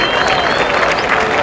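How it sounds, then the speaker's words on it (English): A crowd breaks into a short burst of applause and cheering, dense and fairly loud, with a faint tonal layer running beneath it. "Round of applause."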